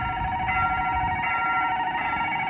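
A railroad crossing bell clangs steadily at Jeongdongjin, Korea, as the barrier lowers for an approaching train, a continuous ringing chime with a low outdoor rumble beneath it.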